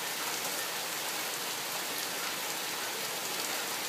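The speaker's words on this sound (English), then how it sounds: "It doesn't look like it's raining in the camera, but you can hear it" Steady rain falls outdoors in a continuous, even hiss of drops pattering on surfaces, loud and close with no pauses, heard alone without voices.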